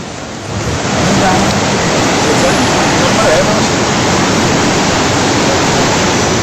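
A swollen, fast-flowing river in flood rushes with a loud, dense, continuous roar that swells during the first second and then stays constant, close and overpowering.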